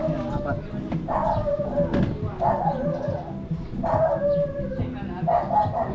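A dog barks repeatedly nearby in short bursts of sharp yips, roughly once a second, with a voice talking under and between the barks.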